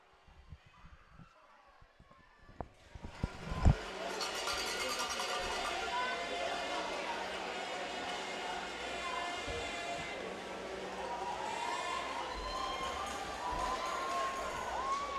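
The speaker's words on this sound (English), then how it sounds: "we'll give you some sounds of the rink here" Crowd noise swells in an ice hockey rink after a few seconds of quieter sounds, building into sustained cheering and a steady roar, with a cowbell-like clatter and some voices mixed in throughout, ahead of a U15 gold medal ceremony.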